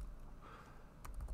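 Quiet keystrokes on a computer keyboard as a chmod command is typed, a few soft clicks at the start and a short cluster near the end.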